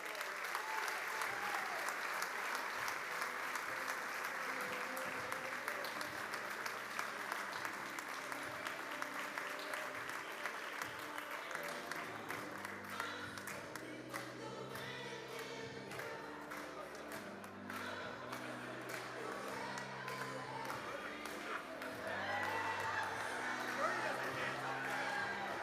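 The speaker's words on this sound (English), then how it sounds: "how about a round of applause for Randall and his wife" Audience applause at a leadership awards celebration for an honoree and his wife, a full, sustained roar of clapping that lasts throughout over a steady backing beat of music.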